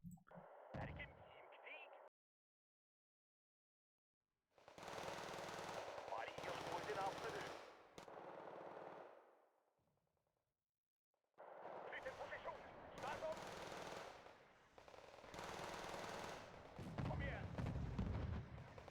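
Gunfire and artillery fire from the video game Wargame: Red Dragon, set in a nuclear-winter Scandinavia ranked match: dense, loud bursts of explosions and machine-gun fire in several long stretches, with silent gaps between them.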